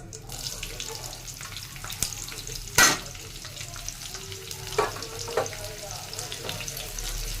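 Onion, garlic and green chili fry in hot oil in a pan, a steady close sizzle and crackle with occasional louder spatters and a clank of the utensil partway through.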